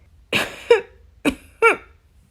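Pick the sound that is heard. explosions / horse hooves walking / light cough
light cough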